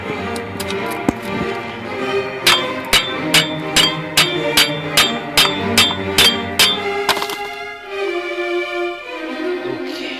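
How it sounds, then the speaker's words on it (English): A rusted wheel hub on a 2005 Ford Explorer is struck with a hammer, a run of about a dozen sharp metallic blows at a steady rhythm, close and loud, before the banging stops. "Sometimes you have to beat the rust out of it"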